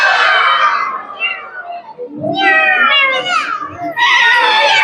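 Group of children at a retreat imitating a cat with their voices, loud drawn-out meowing cries in several overlapping bursts close by.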